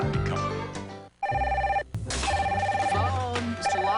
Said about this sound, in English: Phone, Mr. Lyons?